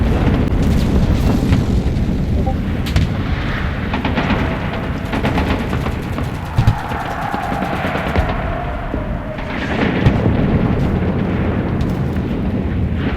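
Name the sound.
artillery fire in the video game Enlisted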